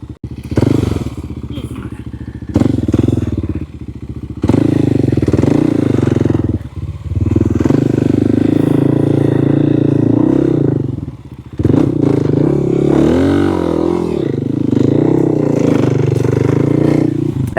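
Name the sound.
Kawasaki KLX 300 dirt bike riding on trails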